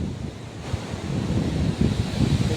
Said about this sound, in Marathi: अशा प्रकारे गोदावरी नदीचं पाणी आहे आणि हा बंधारा आहे